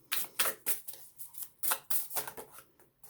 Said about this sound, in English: now I'm going to work with the Lemurian deck. We'll see. And I do shuffle these beforehand.